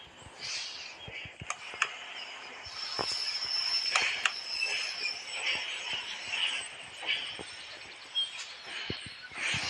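Rattling, clicking mechanical train sounds in the video game Hello Neighbor 3, with sharp ticks and a hissing high hum, fairly quiet and steady, with no talking.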